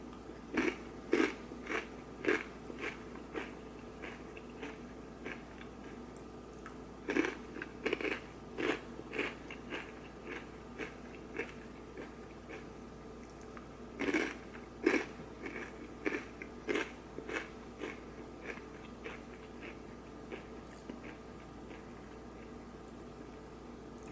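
Guacamole-flavoured Takis rolled tortilla chips are bitten and crunched close to the mic, sharp crisp cracks arriving in irregular clusters over steady chewing, with short pauses between bites. Quiet room, no talking.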